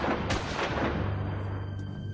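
Gunshots as a sound effect in a crime documentary set in an upscale Chicago suburb: a few sharp loud cracks and booms early on over a dense rumbling bed, fading into a low sustained hum.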